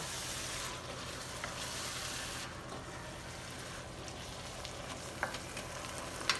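Beef fries and simmers on high heat in a pan, a steady soft sizzle with a few small pops and clicks near the end, heard up close without talk.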